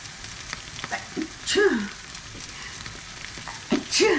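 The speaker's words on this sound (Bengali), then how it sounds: "এটাকে এখন ভাজা ভাজা করে নিব" Leafy greens sizzle and hiss in a hot pan as they are stir-fried, with a steady frying crackle broken by a few louder bursts of scraping and tossing, close by and with no talking.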